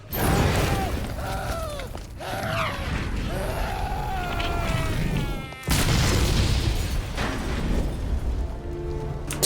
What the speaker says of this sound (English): Nobody guess there had to be a big explosion after all.